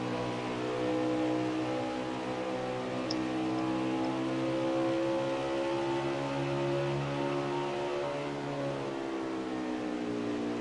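A #44 race truck's engine drones steadily at Dover's Monster Mile, a continuous harmonic roar holding near and loud for the whole stretch without clear gaps or revs.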